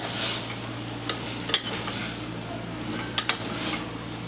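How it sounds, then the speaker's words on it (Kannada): A spoon stirring cluster bean (gorikayi) curry in a pan, soft scraping under a steady low hum with a few sharp clinks against the metal. "ಚೆನ್ನಾಗಿ ಮಿಕ್ಸ್ ಮಾಡ್ತಾ ಇದ್ದೀನಿ ಗೋರಿಕಾಯಿ ಹಾಕೊಂಡಾದ್ಮೇಲೆ"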